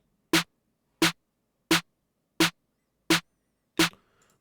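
Trap snare drum samples hit six times at an even, unhurried pace, each a sharp close crack with a short body, the last one trailing a faint tail; no talking.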